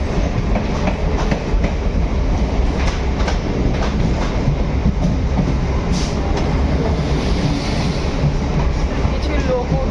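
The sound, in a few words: empty passenger train running on rails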